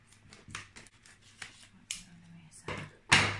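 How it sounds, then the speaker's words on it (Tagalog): Scissors snipping open a KitKat Mini Moments package, several sharp crisp cuts and plastic crinkles in quick bursts, close and loud, with voices talking in between. "Open na natin ang gunting."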